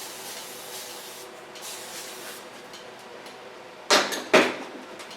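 A spray bottle wets hair during a bob haircut with a side shave: two quick, sharp hissing spritzes near the end follow a stretch of quiet rustling, with no talking.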